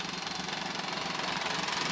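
A Maruti Suzuki Alto 800 LXI petrol engine idles close by with a steady, even mechanical hum and a faint rhythmic ticking, continuous with no talk.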